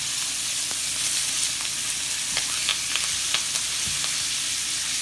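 Steak sears in a hot pan on the stovetop, a steady close hiss of sizzling with scattered small pops and crackles throughout.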